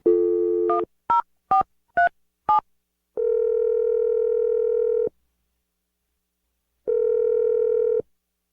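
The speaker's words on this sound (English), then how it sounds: "I'm going to dial Melanie's number right now." A telephone keypad dials a number: five quick, clear touch-tone beeps in a row, then two long ringback tones separated by a pause, with no talking.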